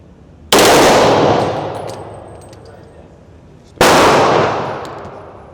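An S&W M&P 2.0 Pro Series .40 S&W pistol with a Freedom Finger FRT fires two loud, close bursts a few seconds apart, each a sharp blast with a long ringing echo.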